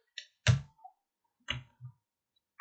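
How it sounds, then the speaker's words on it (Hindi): A few sharp, isolated computer mouse clicks on an on-screen button during a React useRef coding demo, spaced irregularly, close and crisp against a quiet background. "एक बार मैं क्लिक करके देख लेता हूँ।"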